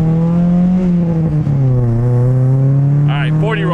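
A cheap, rough-running, lowered Honda Civic engine revs and drones steadily as it accelerates, its pitch dipping and then climbing, loud and close, with a voice briefly shouting near the end.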